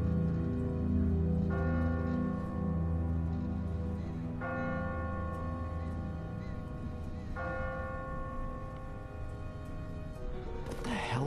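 A church bell tolls from a bell tower in The Walking Dead video game, three slow, evenly spaced rings sustained over a steady low background drone, fairly loud and resonant.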